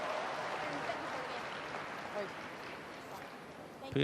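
Home crowd applauding at a women's junior curling game between Russia and Hungary in Krasnoyarsk, a soft steady spread of clapping heard at a distance, with a brief knock near the end.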